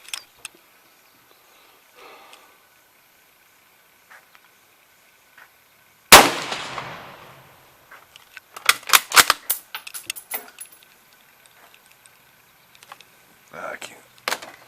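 Mauser Kar 98K rifle shots fired at a 100-yard range outdoors: one sharp loud report followed by a cluster of quicker cracks and clicks, with quieter handling noises and brief talk around them.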